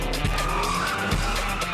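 A car drifts in the video game Juice 2 Hot Import Nights, with a steady engine roar and tire squeal held under a busy, loud mix.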